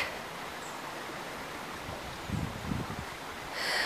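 A small stream trickles in cemetery grounds among wild garlic, making a faint, steady, continuous wash of water with a slight swell in the last moments.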